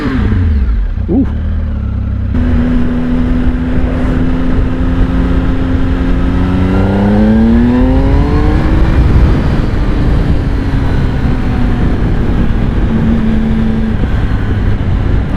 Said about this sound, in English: these are stock exhausts and they're not bad compared to most stock exhausts you get these days